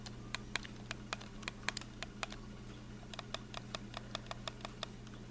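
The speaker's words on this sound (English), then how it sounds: "The buttons are really clicky." Fire buttons on an IPV4 vape mod being pressed, giving a quick series of crisp, sharp clicks in uneven bursts, close and fairly quiet over a faint background hum.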